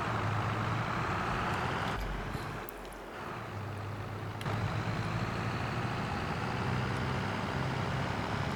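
Truck or tractor engine hauling a trailer up toward a canola field, a steady loud rumble throughout with a brief dip near the middle, no talking.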